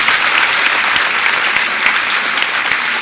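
At the Nasha Mukt Bharat campaign launch in Sirsa, a packed audience bursts into loud, sustained applause. Many hands blend into a steady roar of clapping, with occasional distinct sharp claps and no voices above it.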